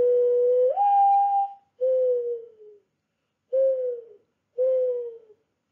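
A person imitates a mourning dove's call outdoors, whistling four clear, hooting notes: a long first note that rises and holds, then three shorter falling coos separated by pauses, close and moderately loud with no other sound.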